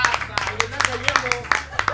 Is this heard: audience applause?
yes